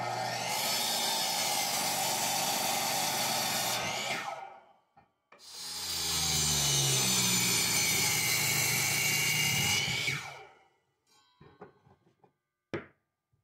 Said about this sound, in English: I'm using my table saw to cut the tenons